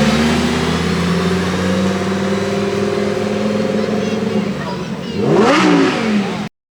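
A Lamborghini's engine drones steadily in the distance, then revs hard near the end in a loud rising surge that quickly falls away, with a faint voice underneath.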